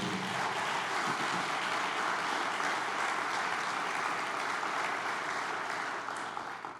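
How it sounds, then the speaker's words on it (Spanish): A church congregation applauds its king at a pastor's urging, a continuous, dense wash of clapping that holds steady and loud before easing slightly at the end. "Dale un fuerte aplauso al Rey"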